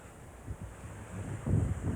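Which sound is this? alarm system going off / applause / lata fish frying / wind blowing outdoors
wind blowing outdoors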